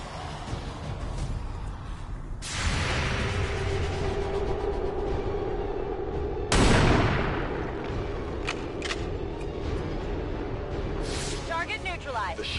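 Explosions and gunfire in the XCOM 2 video game, with two loud blasts and sustained combat noise running throughout. A voice speaks over the din.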